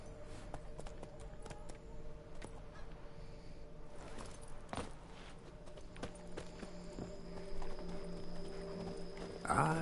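Roach, a horse in The Witcher 3, runs with rhythmic clip-clopping hoofbeats at moderate volume against low game ambience. A few sharper knocks occur midway, and a brief louder burst comes at the end.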